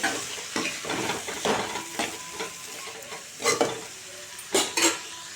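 Tomato and green chilies frying in a pan, a soft steady sizzle broken by repeated scraping stirs of a utensil against the metal, some stirs louder than others, with no voices.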